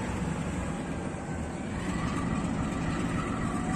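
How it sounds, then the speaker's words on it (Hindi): A Pakistan Railways rail car, the 104 Down service from Rawalpindi to Lahore, pulls away from the station with a steady, broad engine rumble and rail noise that holds loud throughout. "104 डाउन रेल कार सुबह रफ्तार रावलपिंडी से लाहौर जाने के लिए चल पड़ी।"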